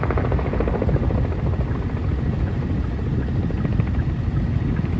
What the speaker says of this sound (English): he's out here in his helicopter just spraying away